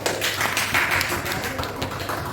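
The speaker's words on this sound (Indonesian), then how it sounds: "Oke, tepuk tangan dulu." A classroom of students applauds after a group presentation with fast, close patter-like clapping that holds steady and fairly loud from start to finish.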